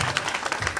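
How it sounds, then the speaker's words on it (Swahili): Audience applause at a gathering with MPs present, a brief dense burst of many hands clapping at steady volume, mixed with crowd noise. "Wapi makofi hapo?"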